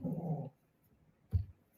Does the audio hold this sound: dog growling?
yes